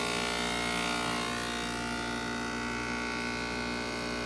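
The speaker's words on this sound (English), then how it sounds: "this machine, when it pulls the vacuum, then it will seal" A vacuum packaging machine hums steadily and loudly while pulling vacuum on a bag of bacon, a continuous dense whir that barely changes in level.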